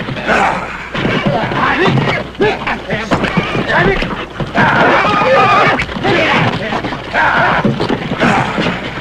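A stallion whinnies loudly and repeatedly at close range amid thumping hoof movement, with someone talking over and between the calls.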